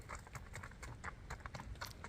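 Faint, rapid clip-clop of a 6-year-old palomino and white Tennessee Walking Horse named Iron Man, hooves striking in a quick, even rhythm at a distance, quiet and steady.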